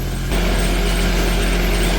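A firewood processor starting up. A quieter mechanical rattle jumps to a loud, steady engine and machinery roar that holds constant right up close.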